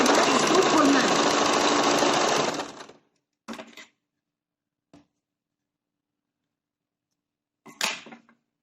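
A sewing machine stitching a blouse runs in a steady loud whirring burst for under three seconds, then stops; a few brief clicks and handling noises follow in near silence.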